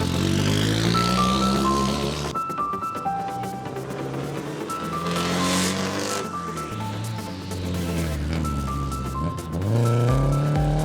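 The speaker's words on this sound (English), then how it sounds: "Mashini ni aina ya Toyota Corolla." A Toyota Corolla rally car drives hard through a dusty rally stage in Kenya. Its loud engine drones steadily and close, the pitch climbing and dropping again and again through gear changes, with no talking.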